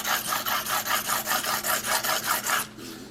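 Muzzy trocar broadhead being sharpened on diamond plates, a steady rhythmic rasping scrape repeated about every quarter second in even back-and-forth strokes, close and clear, stopping near the end.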